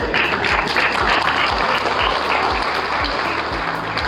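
An audience at a university law event claps steadily in a dense, sustained burst of applause, with faint rhythmic thumps beneath the clapping.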